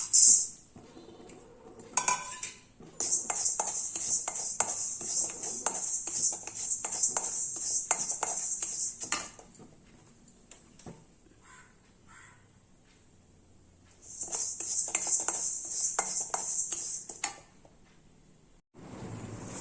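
Moong dal is dry-roasted in a pan, with a metal spoon scraping and clinking as the dal is stirred and a hissing texture in two long bursts separated by a quiet pause.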